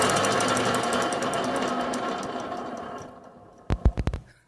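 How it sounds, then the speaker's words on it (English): A worn trailer wheel bearing grinds and rumbles steadily as the wheel turns, a dense harsh rasp that fades slightly before a few sharp knocking clunks near the end. "Bearing shouldn't sound like this."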